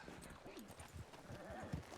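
Horse in a Wild West roleplay video game, clip-clopping hooves and a short whinny, faint and brief, with quiet voices in the background.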